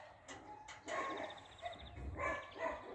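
A dog gives a few short, faint barks at some distance over a low background rumble.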